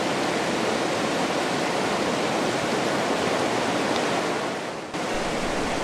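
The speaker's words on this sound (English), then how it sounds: "There was even a mini waterfall, which added to the attraction of this wonderful scenery." Steady rushing water pours continuously from a small waterfall, a dense even roar with no voices.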